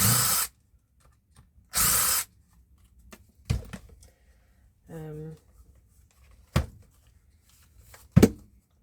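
A cordless power drill whirs in several short bursts separated by pauses, with clicks and handling knocks between them, close by.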